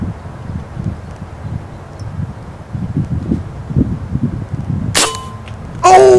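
A .25 caliber Benjamin Marauder air rifle fires once at a squirrel about 55 yards off through twigs, a sharp crack standing out against quiet outdoor rustle and low wind, followed by a brief second burst.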